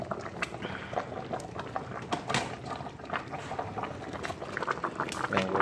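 Pork ribs simmer submerged in liquid in a pot, giving a continuous close bubbling with irregular pops and gurgles, alone with no talking.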